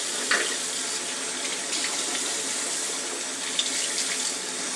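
Water runs steadily from a bathroom tap into a sink during a morning face-washing routine, a loud, close, continuous hiss with small splashes as something is rinsed, and no voices.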